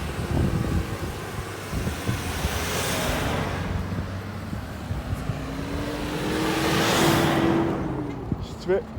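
A pink car drives past on a road near Three Houses Park in St. Philip, Barbados, its engine rising as it approaches and fading away, with steady wind noise and a faint voice in the background.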